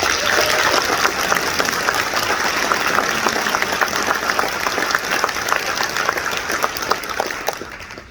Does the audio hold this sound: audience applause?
yes